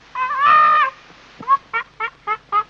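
Chickens in a chicken house give one drawn-out call followed by four short, evenly spaced clucks, close and clear with no talking.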